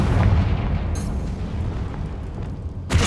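A Confringo blasting spell detonates in Hogwarts Legacy, a deep booming burst that rumbles and fades, then a second sharp blast hits right at the end.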